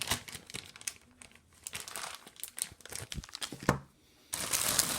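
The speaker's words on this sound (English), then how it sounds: "it's already crinkly taking them out of the big bag" Plastic bags crinkle and rustle continuously as items are pulled out of a larger bag during a scented-product haul, close and fairly loud, with a brief pause before a burst of louder crinkling.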